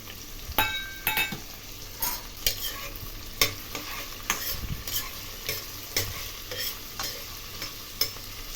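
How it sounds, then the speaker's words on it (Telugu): Onions frying with ginger-garlic paste in a pan for gongura pulao, a steady sizzle broken by repeated sharp scrapes and clinks of a spoon stirring, close and moderately loud with no talking. "ఇవి వేగుతుంటూనే ఇంకా అల్లం వెల్లుల్లి పేస్ట్ కూడా వేసుకుంటున్నాను"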